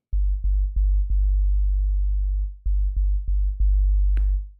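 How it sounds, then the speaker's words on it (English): FL Studio's stock E flute preset dropped an octave into a pure sine-wave sub bass, playing a run of short, evenly spaced low notes, a pause, then another group of four, with no talking. "I'm gonna use the preset flute, the E flute. It has a nice sub sound. It's a nice sine wave."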